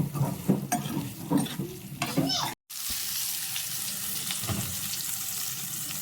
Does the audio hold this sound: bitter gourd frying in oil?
yes